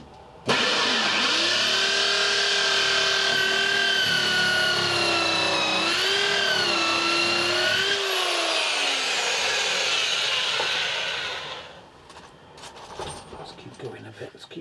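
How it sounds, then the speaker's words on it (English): A power drill whines steadily at high speed for about ten seconds, pitch dipping briefly under load, then stops, leaving faint clatter. "So I'm just going to drill to the side of that"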